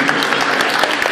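Guests in a store give a short burst of applause, loud and close, the clapping continuous and dense through its brief length.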